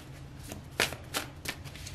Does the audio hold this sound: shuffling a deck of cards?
yes